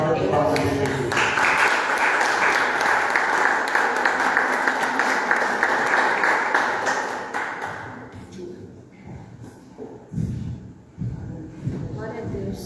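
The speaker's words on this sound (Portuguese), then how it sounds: "Uma salva de palmas a Jesus." A church congregation claps together at a Sunday service, a dense sustained wash of many hands for about eight seconds before it fades into scattered claps and talk.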